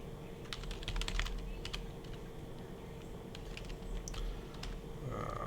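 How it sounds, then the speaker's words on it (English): Rapid clicking keystrokes on a brand-new computer keyboard, irregular bursts of taps fairly close and clear over a steady low background hum. "Sorry, new keyboard"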